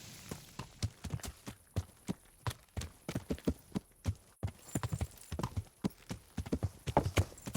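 Hooves clip-clop in the video game Kingdom Come: Deliverance, in a quick, irregular rhythm, fairly close, like a horse trotting along a hard path with no talking.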